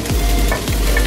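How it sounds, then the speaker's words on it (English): Bacon and carrots frying in a pan for fried rice, a loud steady sizzle with a couple of scraping stirs at the start and near the middle. "got the bacon going on in here."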